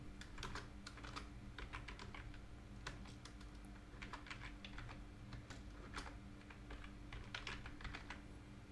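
Rapid keystrokes on a computer keyboard while a blog post template is built in Elementor, arriving in uneven bursts and pauses over a steady low hum, fairly quiet and close, with no talking.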